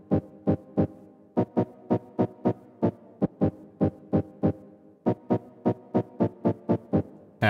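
A deep house chord stab from an Old School Garage sample pack is triggered in a sampler as short, punchy hits in a syncopated repeating pattern, clean and upfront with no voices.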